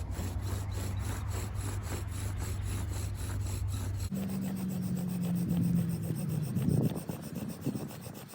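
Bow drill friction with a pine spindle on a pine board, heard as a steady, rapid rasping rub of back-and-forth strokes that continues throughout, fairly faint, under a low hum.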